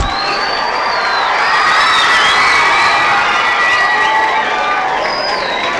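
A crowd of students shouts and cheers at a college award ceremony, a loud sustained roar of voices with high whoops and scattered claps filling the hall throughout.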